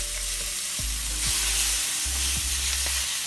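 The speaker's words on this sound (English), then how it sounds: "I'm gonna toss in some red peppers. Tossing some green peppers." Red and green peppers tossed into a hot pan for jerk tofu, sizzling and frying steadily with a few sharp clatters of stirring and tossing, close and alone without talk.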